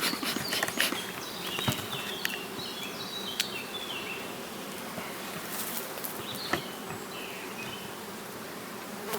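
Honey bees swarm and buzz around an open hive in an acacia apiary while supers are added, a dense steady hum with sharper passes of individual bees flying close by, and no talking.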